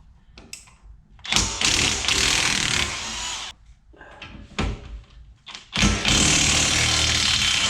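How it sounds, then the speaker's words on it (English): DeWalt 20-volt cordless impact gun working on Dodge Dart front-end suspension, loud hammering bursts of a second or two separated by short pauses, close to the microphone. "I love this air gun, this 20 volt DeWalt with the impact"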